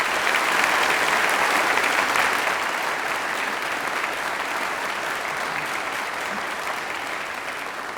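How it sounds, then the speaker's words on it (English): Sustained applause from a large graduation ceremony audience in a hall, a dense steady wash of clapping lasting throughout and tapering slightly toward the end. "can I start by asking you to have a little practice at your applause"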